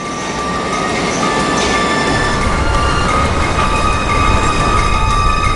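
São Paulo metro train running at a steady, loud roar with sustained high metallic squealing tones and rolling rail noise throughout, no speech.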